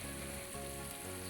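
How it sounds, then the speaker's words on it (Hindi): Green chillies and garlic frying in oil, a steady faint hiss and crackle of sizzling throughout. "हम इसको फ्राई करेंगे 2-3 मिनट के लिए"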